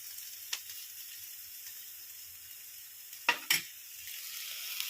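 Hot tempering of spices is poured into salted yogurt, giving a faint steady sizzle with a few sharp crackling bursts and clinks of a pan near the middle, quiet and without talk.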